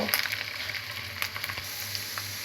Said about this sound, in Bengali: ফার্স্টে আমি প্যানে 1 টেবিল চামচ পরিমাণ আদা বাটা রসুন বাটা দিয়ে ভালো করে মশলাটাকে কষিয়ে নেব।